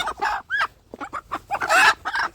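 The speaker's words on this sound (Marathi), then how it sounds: "बघू शकता कोंबडा" A native gavran rooster with glossy, multicoloured plumage clucks and squawks in a quick run of harsh, rising calls, close and fairly loud, with no talking.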